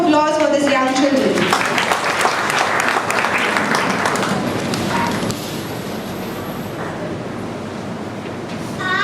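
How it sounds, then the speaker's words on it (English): An audience claps loudly for young children at a pre-primary school talent show, dense continuous applause that begins right after an amplified announcement voice and slowly fades but keeps going. "Kindly have a big round of applause for these young children."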